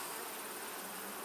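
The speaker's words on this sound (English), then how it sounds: "Decent number of bees up here." Honeybees hum steadily from an open hive during an inspection, a faint, continuous buzzing drone with no voices over it.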